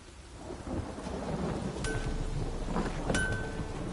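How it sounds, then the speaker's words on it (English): Rain falling in The Witcher video game, a steady close patter with thunder rumbling underneath and a couple of faint clinks, continuous with no speech. "Oh, it's drizzling."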